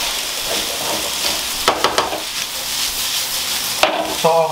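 Corned beef hash sizzles in a frying pan as it is tossed and stirred, with quick utensil scrapes and clanks over a constant hiss and a few louder knocks near the end, with no talking.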